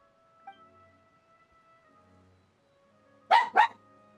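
Two quick puppy barks sound close together near the end, following a stretch of quiet indoor background with faint tonal hum.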